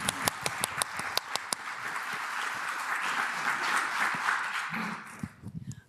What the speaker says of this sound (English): I would like a big round of applause to Abby, who's been our signer